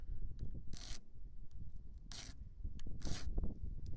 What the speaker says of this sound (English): So just take a file that's got a flat side, go on there